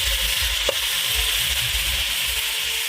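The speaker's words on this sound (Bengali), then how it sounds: "ভালো গরম হয়ে গেছে, এবার আমি চালতাটা ঢেলে দিচ্ছি" Elephant apple (chalta) tipped into hot oil seasoned with dried red chillies and five-spice, giving a steady, loud, close frying sizzle throughout, with a single brief splash-like burst early on and no talking.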